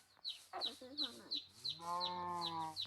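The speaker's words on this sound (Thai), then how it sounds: "ฉันได้ยินเสียงวัว" A Minecraft cow moos in a village setting, a low drawn-out harmonic call rising near the end, while short repeated higher chirps like clucking fowl pulse throughout.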